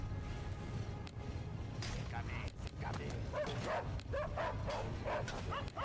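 Dogs in a Total War battle, barking and yipping in quick bursts over the din of fighting, with a person talking throughout.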